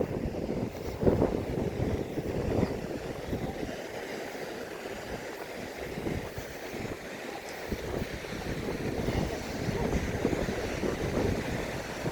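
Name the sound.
wind picking up at a beach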